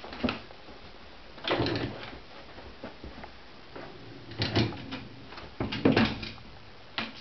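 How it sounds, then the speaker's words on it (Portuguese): A child closes a drawer at home: several soft knocks and slides of wood, with a couple of louder thumps toward the end, set against a quiet room. "fecha lá a gaveta"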